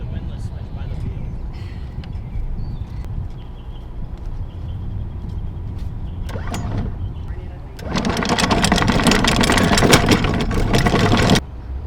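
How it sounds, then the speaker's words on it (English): Anchor windlass running aboard a Marine Trader Europa trawler at anchor in Boca Lake, Florida: a steady mechanical whir and chatter grows loud in the last few seconds, over a low idling engine rumble. "Oh, you gotta flip the windlass switch by the wheel."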